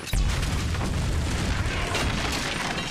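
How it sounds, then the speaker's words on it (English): Cannon fire in the GTA V video game: a sharp blast onset, then a loud, sustained rumbling explosion lasting about three seconds, heavy in the low end, with no talk over it. "Shoot up that cannon."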